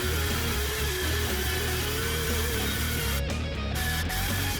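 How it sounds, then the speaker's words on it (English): A track saw running along a homemade jig, ripping wood for a closet build, gives a loud, steady whine that holds throughout with a brief dip near the end. "I call this my track saw jig."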